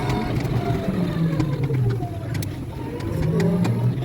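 An auto-rickshaw ride with a steady engine drone and road rumble, close and continuous, with faint bird calls and clicks over it.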